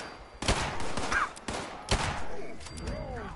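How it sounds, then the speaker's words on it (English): Gunfire in the video game Fallout 76, with three or four loud separate shots in quick succession over low battle noise and faint game sounds. "That's why we shoot at them."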